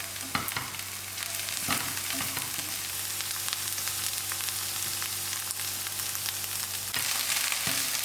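Onions and plenty of green chilies frying in one pan for a sausage and baked beans brunch, a bright, continuous sizzle broken by a few sharp stirring scrapes near the start and end, close and without talk.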